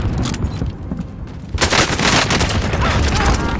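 Rapid gunfire in the shooter Warzone on Rebirth Island, with dense bursts of automatic shots that grow louder and busier halfway through, close and continuous.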